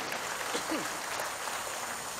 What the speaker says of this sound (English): Give God the best clap of praise.